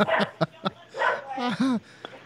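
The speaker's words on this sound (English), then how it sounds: "I never heard dogs barking on Wingy's podcast" A dog barks and yips several times in short, sharp bursts, with a whimpering whine in between. The sounds are close and mixed with someone talking on a podcast recording.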